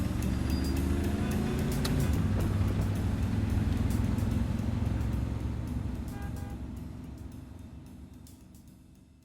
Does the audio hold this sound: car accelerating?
yes